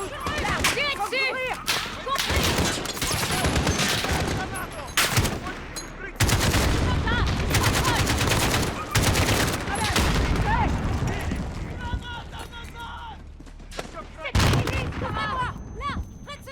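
Dense gunfire in Call of Duty Modern Warfare, sharp repeated shots and bursts crackling almost continuously with heavy booming impacts, loud and close, with voices shouting commands in between.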